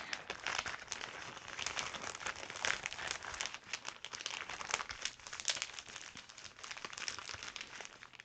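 A plastic bag crinkles continuously and close up as scrapbook supplies are pushed back into it, a dense, crackly rustle that runs throughout with no talking.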